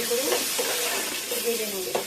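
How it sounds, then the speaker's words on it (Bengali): Potato pieces sizzling in hot oil in a pan, with a steady frying hiss and a few stirring scrapes throughout, loud and close. "ভালো করে আলুটাকে লাল লাল করে"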